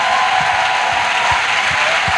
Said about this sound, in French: Offrande d'acclamation à Jésus-Christ.